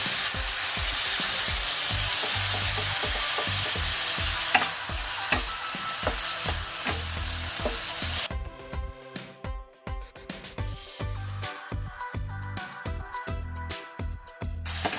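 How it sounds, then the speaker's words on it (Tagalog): Ilocano igado sizzles steadily in a frying pan while a utensil scrapes and stirs it in repeated strokes; about halfway through the sizzle thins and the stirring clatter grows more distinct. "Continuous lang dapat ang pagsutay natin or paggisa."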